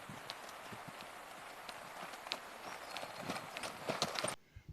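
Horse hooves clip-clop in a steady, close rhythm of repeated sharp strikes at a gallop, continuing for several seconds before cutting off near the end.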